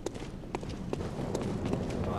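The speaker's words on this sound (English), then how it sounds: "I hear some footsteps." Footsteps in the video game Bloodborne: a steady run of quick, distinct steps at a brisk walking pace, moderately close, with faint voices underneath.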